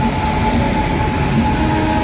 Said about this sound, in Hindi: बाकी एक और ट्रेन का अराइवल होने जा रहा है